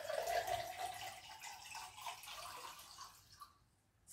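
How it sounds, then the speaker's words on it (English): Water pours from a jug into a glass in a soft, faint splashing trickle that fades out after a few seconds. "Pouring the jug of water."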